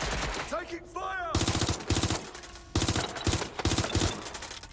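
Automatic gunfire in Watch Dogs: Legion rattles in repeated short, loud bursts separated by brief gaps, with a voice shouting at the start over background noise.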